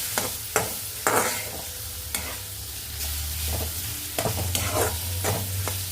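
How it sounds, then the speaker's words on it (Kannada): Buttermilk palade stirred in a pan with a ladle, giving sharp scraping clacks at irregular intervals over a soft, steady simmering sizzle, close up and with no voices. "ನೋಡಿ ನಾನು ಇಷ್ಟು ಹಾಕಿದ್ದೀನಿ ಇವಾಗ ಮತ್ತೆ ಕೈ ಆಡ್ತೀನಿ"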